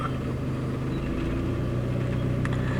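A Suzuki Vitara that runs badly revs slowly from a low idle to a steady, close engine hum whose pitch climbs gently, with no talking.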